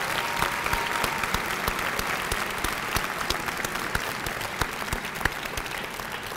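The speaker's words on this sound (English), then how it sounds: "Please give a round of applause and thank you, Maureen Benenda." A high school graduation crowd applauds a retiring superintendent. Sustained clapping from many hands fills the hall at an even level, with no speech over it.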